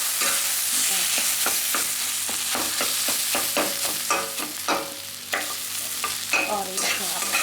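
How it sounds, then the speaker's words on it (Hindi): Mashed potatoes being stirred and mixed quickly in a hot kadhai for Odia-style aloo bharta, a close, continuous sizzle with repeated scraping strokes of a spoon against the pan. "फिर कढ़ाई में ये आलू जो आप मैश करके रखे थे उसको डाल दीजिए और फटाफट मिक्स करिए इसके साथ में"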